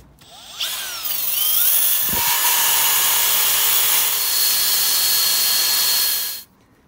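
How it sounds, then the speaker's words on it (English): A power drill with a wire wheel brush strips paint from a metal bracket at the front of a car, spinning up with a rising whine into a loud steady abrasive buzz for several seconds before stopping. "Let's get the wire wheel on that."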